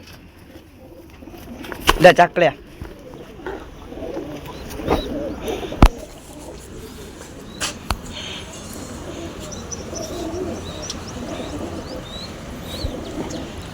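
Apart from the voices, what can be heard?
pigeons cooing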